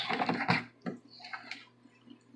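Water poured in bursts into a small Kuppet portable washing machine, a splashy pour at the start, then a few shorter splashes and drips with quiet pauses between.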